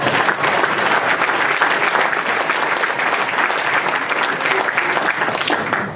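Sustained audience applause fills an auditorium, a dense, even wash of clapping hands that holds steady and loud for the full stretch with no voices over it.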